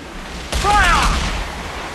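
A single loud ship cannon blast from a brig in the Assassin's Creed 4 Black Flag video game, a sharp boom followed by a short rumbling decay.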